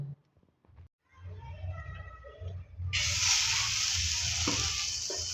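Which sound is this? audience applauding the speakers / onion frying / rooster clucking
onion frying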